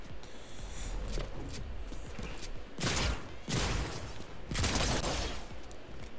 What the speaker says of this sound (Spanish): Aquí creo que hay uno que está abajo que le está disparando no sé a quién